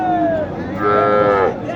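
Cattle at a village livestock market in Naogaon, with Sahiwal and local calves among them. One loud, close, drawn-out moo rises and falls over a busy background of crowd noise.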